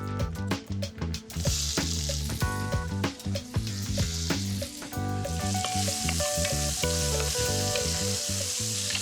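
Vidalia onions frying in leftover drippings from seared lamb, a loud steady sizzle with clattering stirring strokes in the first half, then settling into continuous crackling frying.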